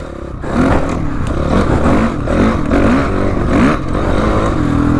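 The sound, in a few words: Honda CRF450R motocross motorcycle being ridden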